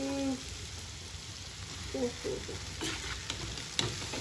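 Chowmein noodles stir-fried in a pan, a faint steady sizzle with a few soft spatula scrapes and taps near the end, quiet and close.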